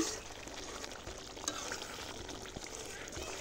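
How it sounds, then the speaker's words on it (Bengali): Masala being stirred and fried in a pan for a spicy chicken dish, a faint steady sizzle running throughout with occasional soft scrapes, no voices. "এখন নেড়ে চেড়ে নিচ্ছি। মশলাটাকে ভালো করে কষিয়ে নিতে হবে।"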